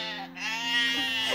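A sheep gives one clear, nearby bleat, a quavering, nasal cry that holds for just over a second with no other sounds around it.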